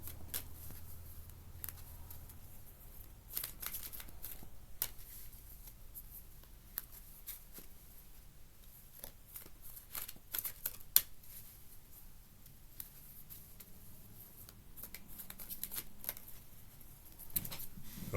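Tarot cards are shuffled close by in quiet, irregular bursts of riffling and soft slaps, separated by short pauses.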